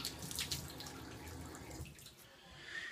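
Warm water runs from a tap at a sink for a face wetting before shaving, a soft steady splashing stream heard close, quiet and uninterrupted.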